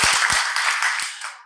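Studio audience at a talk show claps in a short burst, with several sharp, close claps at the start that merge into a crowd clatter and then fade.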